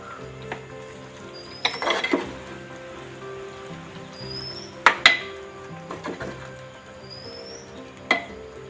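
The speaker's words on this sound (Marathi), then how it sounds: "आणि असं व्यवस्थित वर खालून ढवळून घ्यायचंय।" Food stirred in a cooking pot for a traditional Konkan village meal of val bean birde and drumstick-leaf vegetable, with scattered close spoon scrapes and clinks against metal over a quiet background, a few louder knocks standing out.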